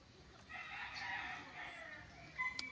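Chickens and a rooster at the coops of a farm lot in Liliw, Laguna call faintly in the distance, a soft drawn-out crow rising over quiet outdoor background.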